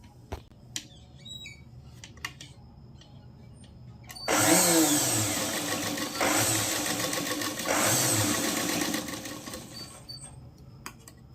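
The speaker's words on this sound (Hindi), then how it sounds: "तो अभी सिल लेते हैं।" A sewing machine stitches a cross patti bias strip, a few faint handling clicks first, then a close, steady whirring run of about six seconds that dips briefly midway before stopping, with no talk.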